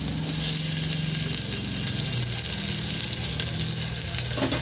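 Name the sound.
black cumin seeds and onions frying in oil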